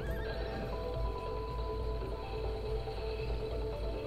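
Horse in the video game It Takes Two whinnies amid clip-clopping hooves and a looping melodic game backdrop, a clear, close neigh over steady rhythmic steps.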